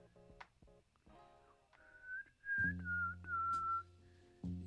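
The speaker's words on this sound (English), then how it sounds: "I shouldn't be whistling right now." A person whistles a wavering melodic tune alone at night, the notes rising and falling over a few seconds, with low thumping and buzzing handling noise in a barbershop setting during a fade haircut.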